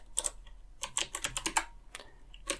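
Quick, light keystrokes on a computer keyboard while typing a command in a terminal, a close, irregular patter of a dozen or so clicks over a faint steady hum.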